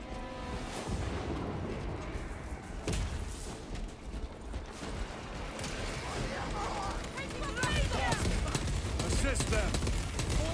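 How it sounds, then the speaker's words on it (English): Dense small-arms gunfire in the Warhammer 40k Space Marine 2 video game, a continuous clattering barrage with heavy battle noise and game voices shouting over it, growing louder toward the end. "A lot of small gunfire."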